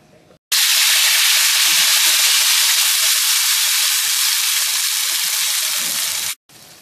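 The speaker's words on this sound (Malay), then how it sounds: "bila cili kita dah mula masak ni" Blended chili paste with large red chilies sizzling loudly in a pan, a steady dense frying hiss that starts abruptly, holds for about six seconds and cuts off, with no talk over it.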